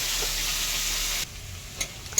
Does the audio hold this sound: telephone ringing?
no